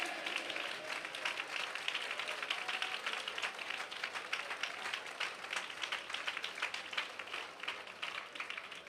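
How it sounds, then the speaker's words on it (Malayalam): A congregation at a Malayalam Christian gathering claps their hands in a steady, dense, even patter of many hands that carries on without a break, heard from a moderate distance. "കൈയടിക്കുന്നേ നേരെ കൈയടിക്ക്"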